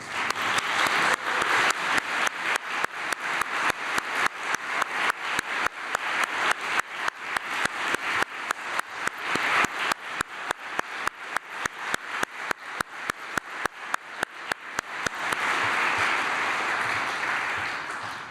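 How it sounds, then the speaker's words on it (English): Audience applause at a business keynote honoring top small-business finalists: dense, sustained clapping from a large crowd that stays steady and loud, swelling near the end before tapering. "that was some real applause"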